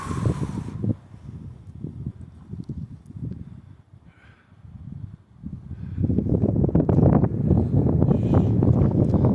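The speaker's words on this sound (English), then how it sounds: "It's a little windy. Nothing too crazy." Gusty wind buffets the microphone in loud low rumbles on the summit of Castle Mountain near Estes Park, Colorado, easing briefly before picking up stronger and steadier toward the end.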